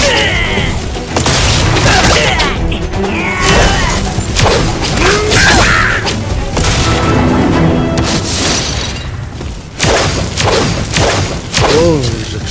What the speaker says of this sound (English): Those explosions.